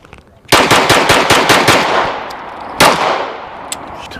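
A Canik TP9SF handgun fires a quick string of about nine loud shots at a range, followed by a pause and one more shot and a faint later crack.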